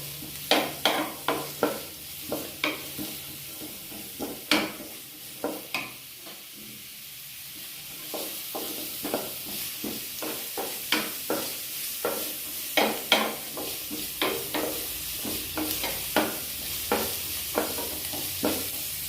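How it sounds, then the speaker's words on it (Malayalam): Onions sauté in hot oil in a pan for a dried-shrimp thoran, with a constant sizzle under repeated rhythmic scrapes and stirs of a spoon against the pan, close up and with no talking. "ഇനി അതിലേക്ക് ഉള്ളി ഇട്ടിട്ട് നമുക്ക് ഒന്ന് മൂപ്പിച്ചെടുക്കാം"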